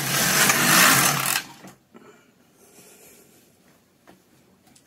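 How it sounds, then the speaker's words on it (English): A knitting machine carriage is pushed across the bed to drop the finished piece off, a loud close rushing whir lasting over a second, followed by faint clicks and handling noises in a quiet room. "when I run the carriage across, it's going to remove the piece from the machine"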